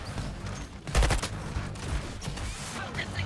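Gunfire crackles in the Suicide Squad: Kill the Justice League video game, with rapid bursts and a louder volley amid busy combat noise.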